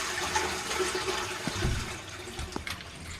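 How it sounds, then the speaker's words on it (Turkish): Water rushes and swirls steadily from a flushed toilet in Internet Cafe Simulator 2, with a hollow gurgle of the bowl refilling and a few soft knocks near the middle. "Adama bak ya sifonu bile biz çekiyoruz ya."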